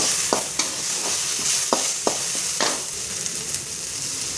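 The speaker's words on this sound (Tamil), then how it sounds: "அது கூட ஒரு தக்காளி போட்டு நல்லா வணக்கி எடுத்துக்கோங்க." Onion and tomato sautéing in a pan, a steady sizzle broken by several sharp spoon scrapes and knocks at irregular intervals, close and fairly loud.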